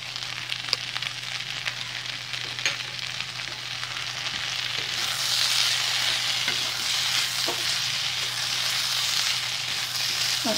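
Vegetables for a mixed veg spinach curry sizzle and fry in a pan after a coarse garlic, ginger and green chili paste is added, a steady broadband hiss with occasional stirring clinks, growing slightly louder midway, with no talking.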